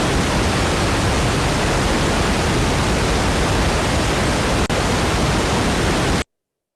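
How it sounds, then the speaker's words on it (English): Steady, dense broadband M noise test signal, similar to pink noise, hisses evenly for several seconds, with one brief dropout near the end, then cuts off abruptly to silence. "a noise signal called M noise"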